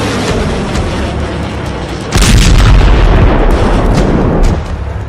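Heavy explosions from Iranian long-range ballistic missile strikes on military bases in southern and central Israel, a low continuous rumble that swells into a louder booming roar partway through, with no speech.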